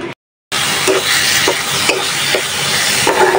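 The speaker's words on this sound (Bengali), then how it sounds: "আর এদিক দিয়ে আমার চেপার তরকারিটা আস্তে আস্তে কষানো হচ্ছে।" Fish curry cooks slowly in spices and tomatoes, giving a loud, continuous sizzle up close, with soft rhythmic thumps of a spoon stirring roughly every half second after a brief silence at the start.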